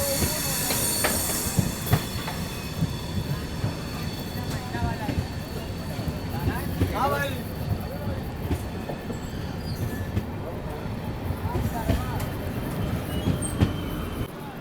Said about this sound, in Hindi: डॉट ऑन टाइम अपनी जो ट्रेन है वो आ चुकी है ज्ञानपुर रोड पर